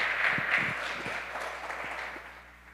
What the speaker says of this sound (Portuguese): dá uma salva de palmas pro irmão.